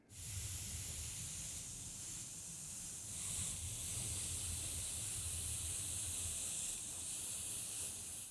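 Mirror chrome spray paint hisses steadily from an aerosol can as one coat goes onto a replica prop gun. The loud, close hiss runs without a break, with no talking.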